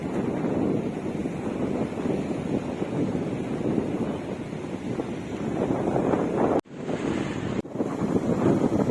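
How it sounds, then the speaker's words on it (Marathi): Continuous surf roars and washes along the shore at Dahanu Beach, buffeted by heavy wind noise on the microphone, with two brief dropouts near the end. "इकडे समुद्र आहे।"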